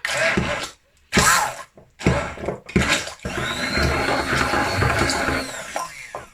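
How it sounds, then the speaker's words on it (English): A Bamix stick blender mixing cake batter whirs loudly in a few short pulses, then runs steadily for several seconds. "now I'm going to give this a whiz with my Bamix stick blender"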